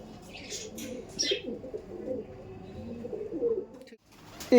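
Giribaj pigeons coo in a low, continuous murmur of overlapping bubbling calls, with a few higher chirps early on, close by and steady before a brief pause and a louder rustle at the end.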